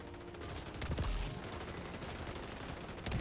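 Gunfire in the xDefiant first-person shooter video game rattles as a dense, continuous burst of rapid automatic shots, loud and close, filling the short clip with no speech over it.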